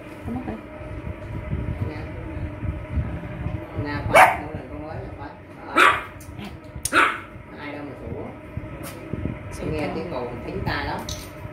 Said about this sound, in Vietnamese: nghe tiếng động đó là sủa